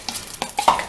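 A utensil scrapes and stirs spaghetti through cream and surimi in a pan over medium heat, a few short wet scraping strokes close by, with no talking.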